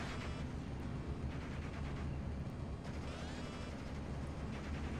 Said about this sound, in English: Nebelwerfer shooting at the T-34 once again.